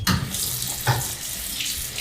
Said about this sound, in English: Wash your hands with soap and hot water for the length of time it takes to sing Happy Birthday twice.